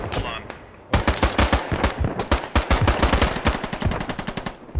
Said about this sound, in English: Gunfire north, northwest area.